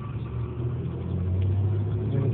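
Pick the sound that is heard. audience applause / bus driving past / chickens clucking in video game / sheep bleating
bus driving past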